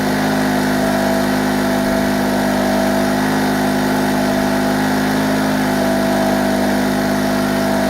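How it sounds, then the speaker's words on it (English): A petrol generator running on old fuel holds a constant, loud, even engine drone throughout, with no variation and no voices. "engine's running much smoother now, the light's not fluctuating at all, because the engine's warmed up"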